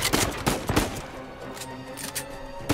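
Gunfire in Uncharted 4 played on hard mode: several loud, close shots crack out in quick pairs and singles, followed by sparser bursts over a humming background.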